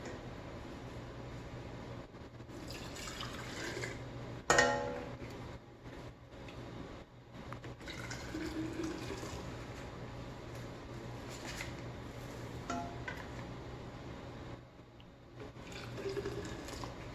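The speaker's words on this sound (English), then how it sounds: "Jars are nice and hot. We're going to put our hot juice in them." Hot muscadine juice pours into hot canning jars with a continuous faint liquid trickle and splashing, plus one sharp clink of glass partway through over a low background hum.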